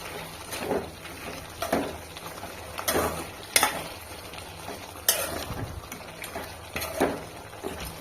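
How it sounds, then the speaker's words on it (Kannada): Country chicken is stirred in a pan with crushed garlic and ginger for a village-style pepper roast, giving soft, irregular scraping and stirring strokes over a faint sizzle. "ಜಜ್ಜಿಟ್ಟಂತಹ ಬೆಳ್ಳುಳ್ಳಿ ಹಾಗೂ ಶುಂಠಿ ಎಲ್ಲವನ್ನು ಚೆನ್ನಾಗಿ ಮಿಕ್ಸ್ ಮಾಡ್ಕೊಳ್ಳಿ"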